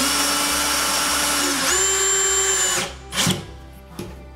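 A power drill spins as it tightens down an electrical box for a vanity light, a steady whine that rises in pitch mid-run, then stops, followed by a couple of brief clunks and knocks.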